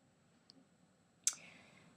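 Two computer mouse clicks on software dialog buttons, a tiny faint tick followed by a louder, sharper click with a short tail, in an otherwise quiet room.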